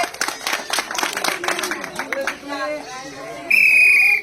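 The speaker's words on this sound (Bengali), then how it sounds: "ঠিক আছে হাততালি" Children clap hands in a quick, uneven patter close by, with people talking over it, followed by a sharp sustained whistle near the end.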